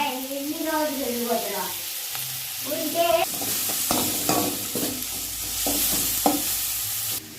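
Food being stirred in a frying pan while chillies and salt are added, with a steady sizzle and scraping stirs running throughout, close and moderately loud, and brief voice-like tones near the start.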